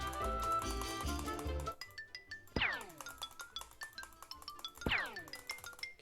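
A strange video game doorbell rings out in two bright, clanging chimes, each struck sharply and ringing down, with a tinkling metallic melody playing before them and a scatter of lighter clinks between.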